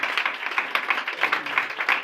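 Church congregation clapping together in a lively burst, dense continuous applause with rhythmic peaks, close and steady throughout.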